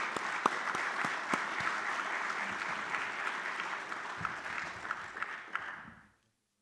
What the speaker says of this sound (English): I would like you help me to give a round of applause for my panelists